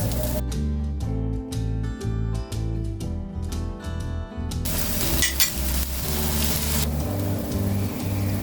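Vegetable fried rice seasoned with sugar and soy sauce being stirred in a pan. A loud, close sizzle runs under rhythmic knocks and scrapes of the spatula, with occasional metallic clinks.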